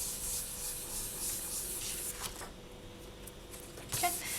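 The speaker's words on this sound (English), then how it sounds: "Burnish that down, because you want it to be stuck to the tile." Polymer clay being burnished down onto a ceramic or glass tile, giving a steady close rubbing and sanding-like friction that runs continuously, with a few slightly louder strokes near the end.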